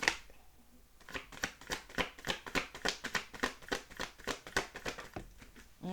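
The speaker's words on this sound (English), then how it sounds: "Let's cut the cards" Tarot cards being shuffled and cut by hand, a rapid run of close, crisp riffling and slapping bursts in a steady rhythm with no talking.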